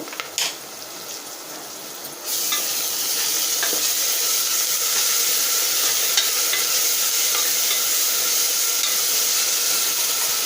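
Ginger paste frying in a pan for masoor dal, a loud continuous sizzle that jumps up after a couple of seconds, with occasional stirring scrapes, close by and without talk.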